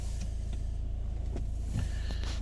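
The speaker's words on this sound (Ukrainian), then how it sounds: "автомобіль завівся." A 2010 Volvo V50 R-Design with a 1.6-litre D2 diesel of 115 horsepower idles just after starting, giving a steady, fairly quiet low rumble with no voices.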